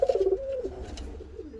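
Pigeons coo at a pigeon loft, giving a short run of soft, pulsing coos up close, then a trailing murmur fading into quieter coos.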